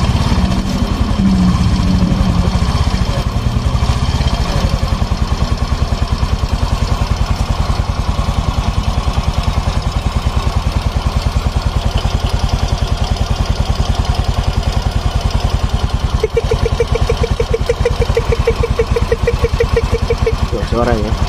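A motorcycle engine runs loud and steady for the whole stretch, its RPM raised and held, with a rough, pulsing mechanical drone. Someone talks over it throughout.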